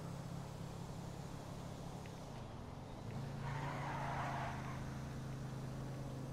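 Engine drone and tire squeal from a car finishing a race in the video game GTA V Online, a steady loud motor hum with a brief screech of skidding partway through.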